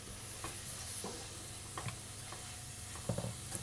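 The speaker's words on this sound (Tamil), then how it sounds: "இஞ்சி பூண்டு பேஸ்ட் சேர்த்துக்கலாம். சேர்த்துட்டு அதுக்கப்புறமா மிக்சியில் அரைச்சி வச்ச அந்த மசாலா பொடியும் சேர்த்துக்கலாம்." Ginger garlic paste and freshly ground masala powder frying in a pan for Tamil mutton chukka, a continuous soft sizzle broken by a few light stirring clicks and scrapes toward the end, close by and with no talking.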